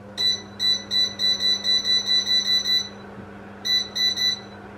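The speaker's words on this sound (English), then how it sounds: "the beeping sound is very annoying" An electric heater's buzzer beeps in rapid, evenly spaced high electronic tones, a run of about a dozen, a pause, then three more, loud and close over a steady low hum.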